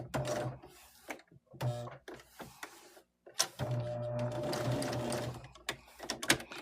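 A sewing machine back-stitches the corner of a Valentine's mug rug, short whirring bursts of stitching that start and stop, then a longer steady run, close and moderately loud.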